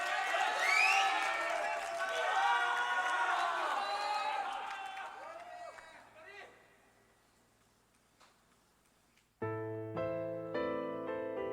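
Cheering concert crowd at a show, loud whoops and shouts that gradually fade to near quiet before piano notes come in clearly at the end.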